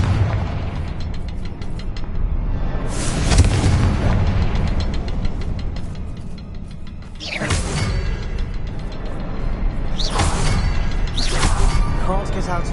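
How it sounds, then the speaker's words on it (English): Confringo fire-spell blasts from Hogwarts Legacy: three loud, close explosive bursts with bright crackling tails, spaced several seconds apart over a constant mechanical rumble and clatter. "Confringo!"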